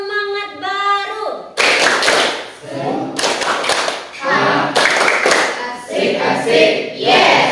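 A classroom of students performs the 'tepuk semangat' clapping chant, bursts of rhythmic group hand clapping in patterned sequences, loud and close, after a brief opening tone, with voices chanting along between claps.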